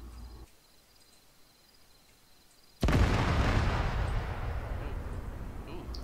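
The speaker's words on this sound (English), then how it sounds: "All of those are gonna start doing secondary explosions." A video game explosion suddenly erupts after a quiet stretch with a faint steady background tone, then a loud, sustained, rumbling roar of blasts and debris continues to the end.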